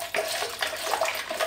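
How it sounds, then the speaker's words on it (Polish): Salted brine of water and salt pours into a container of mushrooms, a steady close splashing, trickling stream with no talk. "całą tą zalewę wlewamy do naszych grzybów"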